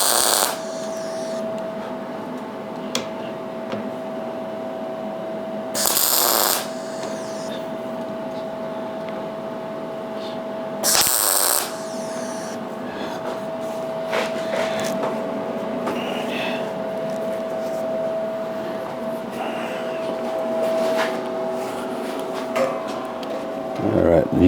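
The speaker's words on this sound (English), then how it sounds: "as I weld the piece up, I'll leave my clamps on so these edges won't raise up" A metal piece for a sculpture base welded with clamps holding its edges flat: two short, loud bursts of crackling hiss stand out over a constant electrical hum and low workshop noise.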